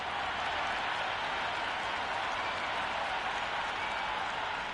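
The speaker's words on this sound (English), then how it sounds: "The crowd are making a heck of a lot of noise" A stadium crowd roars without a break during a simulated India versus Pakistan T20 World Cup cricket match in a video game, a dense, loud and even wash of cheering and clapping.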